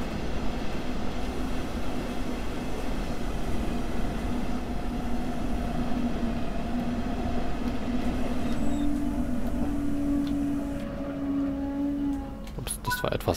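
A Dosto DCZ double-deck cab car train in Train Sim World 3 on the Bochum-Duisburg line, heard from outside as a loud, steady rolling rumble with a sustained tonal hum that shifts pitch near the end.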